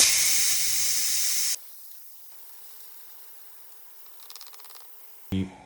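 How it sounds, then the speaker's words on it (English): Instant Pot pressure cooker venting steam: a loud, steady hiss for about a second and a half cuts off abruptly, followed by quieter residual sputtering and a brief burst near the end. "I'm gonna keep releasing the pressure because it's still hot in there."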